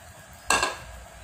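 Maggi instant noodles dropped into a pot of boiling water on a home stove, one sharp close clatter and splash that fades quickly over a faint background bubble, with no talking.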